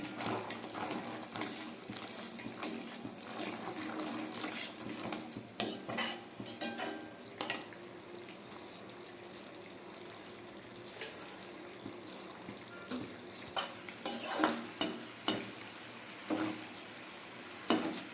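Sugar syrup for jelly candy bubbling in a pan and stirred with a spoon, soft close scraping and simmering sounds with occasional clinks, no talking.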